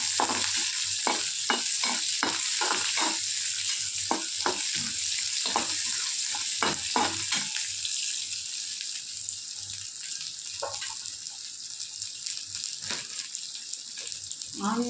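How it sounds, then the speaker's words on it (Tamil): Onions with crushed garlic cloves fry in a pan, with rapid spatula clinks and scrapes over a constant close sizzle, thinning toward the end. "ஆனியன் கொஞ்சம் ஃப்ரை ஆகுது"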